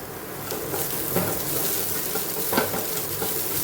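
Ginger and garlic with a little salt fry in a pan, a loud continuous sizzle with occasional stirring scrapes, no talking.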